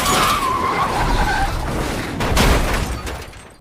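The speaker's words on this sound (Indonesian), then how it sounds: "Tiba-tiba mobil lain datang dan dengan sengaja menabrak mobil Baek" A car deliberately rammed into another car: a loud continuous skid and engine roar, followed around the middle by a sharp crunching impact, then the noise fading away.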